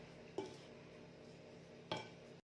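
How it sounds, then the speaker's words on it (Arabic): Sugar and almonds are mixed together in a bowl for Algerian almond cake, two quiet scraping stirs with a utensil clinking against the bowl, close and soft. "وهنا نخلط السكر واللوز مع بعضهم كيما هكا"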